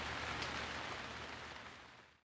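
Steady rain sound effect, a dense, even hiss of falling drops heard up close, holding level and then fading out at the end, with no voices.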